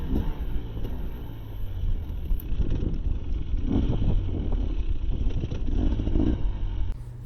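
A KTM XC-W 300 dirt bike runs steadily through a hard enduro race at The Compound in Rueter, Missouri, its engine a continuous rough rumble with clatter and slight rises in revs, heard from the rider's position with no talk.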